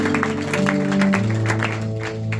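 Church congregation clapping in praise, an irregular patter of hands over a sustained organ or keyboard chord, moderately loud and steady for a couple of seconds.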